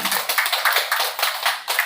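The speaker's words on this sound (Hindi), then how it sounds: "और सब लोग ताली बजाइए जबरदस्त" Group of people at a training session clapping hands loudly in a fast, steady rhythm, sharp close claps repeating several times a second with no talk over them.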